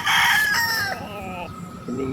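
A gamefowl rooster crows once, a loud, close, drawn-out cock-a-doodle-doo with a strained, falling tail, followed by a brief soft cluck.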